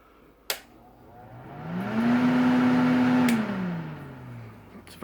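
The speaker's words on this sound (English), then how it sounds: "I have this vintage exhaust fan in here as well" A vintage exhaust fan clicks on and its motor hum swells to a steady, loud whir, then winds down and fades, with a sharp click partway through.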